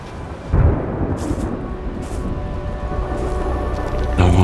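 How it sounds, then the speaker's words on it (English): Thunder in the opening of the Arc Raiders video game, a dull low rumble that rolls in after a soft onset and lingers under a steady wash of ambient noise, with a second swell at the end. "Distant cracks of thunder."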